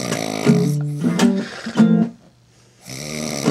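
Otis snores loudly and close in deep, rattling breaths, each snore a droning buzz followed by a brief quiet pause before the next begins.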